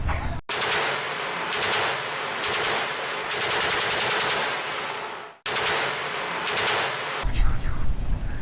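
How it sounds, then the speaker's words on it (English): Loud, sustained machine gun fire rattles in long continuous bursts with only brief breaks, a dense crackling roar of rapid shots seemingly at a distance, with no speech over it. "I was startled by the racket of machine gun fire"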